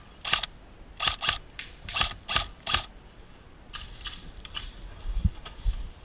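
Airsoft gun firing a string of quick scare shots during an outdoor skirmish, sharp clicky snaps in short bursts of two and three, fairly close, with a few fainter shots trailing off.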